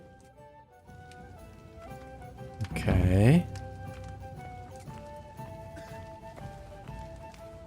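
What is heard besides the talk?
horse hooves galloping in the video game Kingdom Come Deliverance II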